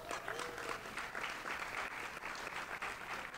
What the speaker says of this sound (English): round of applause for Daniel M. Clark